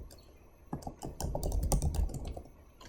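An Excel formula is typed on a computer keyboard, with a burst of rapid, close key clacks that lasts about two seconds after a brief pause, with no talk.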